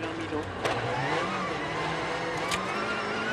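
Sébastien Loeb's rally car runs a slippery Rally Sweden stage on studded tyres, its engine droning steadily at a distance. A commentator talks over the engine throughout.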